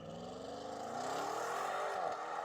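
An Audi accelerates hard from a standstill toward 60 mph, its engine note climbing steadily in pitch through the revs, loud and close, with a brief dip near the end as the gear changes.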